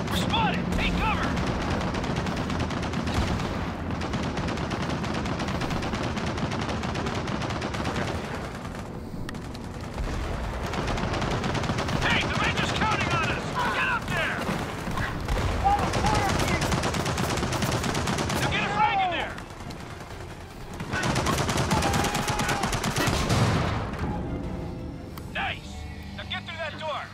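Machine gun nest firing in Gears of War 4, sustained loud bursts of automatic gunfire rattling almost without pause, with voices shouting and talking over the shooting.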